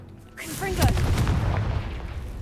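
A Confringo spell explosion in Hogwarts Legacy lands as a burst of booming blasts and crackling debris after a brief whooshing cast, fading into a rumbling tail.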